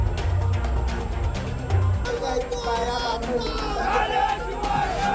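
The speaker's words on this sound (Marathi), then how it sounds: "कार्यकर्त्यांनी गुलाल उधळत आणि डीजे ढोल तशा वाजवत जल्लोष केलाय" Mahayuti party workers celebrate a local election win in Sindhudurg with a DJ and dhol drums, a loud, continuous crowd din with shouting and pounding low drum beats throughout.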